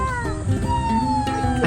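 A cat wearing a ribbon on its neck, at a waterfall restaurant in the Philippines, gives a couple of clear, drawn-out meows close by, with faint chatter in the background.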